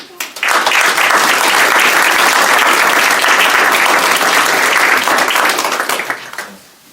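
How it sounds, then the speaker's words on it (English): Loud applause from an audience honouring the Tilton Northfield Fire Department firefighters. Dense clapping swells quickly, holds steady for several seconds, then fades out. "I'd like to give you a round of applause"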